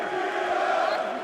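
A UFC arena crowd at UFC 38 in 2002 chanting a fighter's name, a broad sustained roar of many voices carried across the hall at moderate volume.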